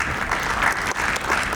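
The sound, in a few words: audience applause welcoming cadets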